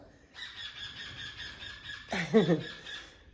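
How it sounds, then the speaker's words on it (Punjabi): Birds chirp and squawk nearby inside a house in short bursts, a run of repeated high calls followed by a louder squawking flurry. "ਘਰ ਚ ਪੰਛੀ ਚਹਿਕਦੇ ਬੜੇ ਸੋਹਣੇ ਲੱਗਦੇ ਆ"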